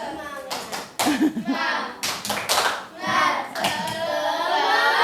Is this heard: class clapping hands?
yes